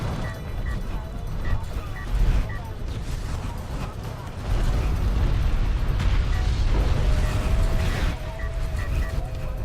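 Repeated explosions and bursts from a large battle in the real-time strategy game Deserts of Kharak, as artillery and assault cruisers wipe out an army, rumble on steadily with mechanical clatter through a busy game mix.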